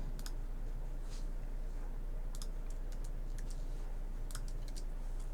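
Computer keyboard keys clatter in quick, uneven bursts of close clicks during a design software tutorial, with steady background hum between the flurries.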